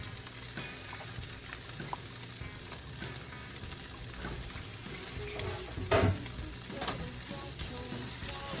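About a cup of corn fries in a pan with a steady close sizzle, punctuated by scattered pops, scrapes and clinks of stirring, and no voices.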